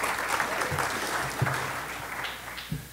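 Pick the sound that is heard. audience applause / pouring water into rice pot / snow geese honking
audience applause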